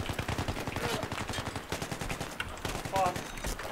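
Rapid gunfire in the Battlefield 3 video game, dense bursts of machine-gun shots firing continuously and loud throughout, with brief shouting mixed in.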